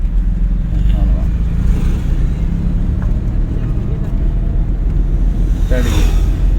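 A learner driver's car pulls away as the clutch is released, with a constant loud engine rumble throughout and a driving instructor talking over it.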